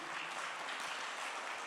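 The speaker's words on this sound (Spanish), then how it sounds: "Dele un aplauso al Señor." A church congregation applauds during a Spanish-language home worship service, a steady dense wash of clapping that holds evenly through the short stretch with no voices on top.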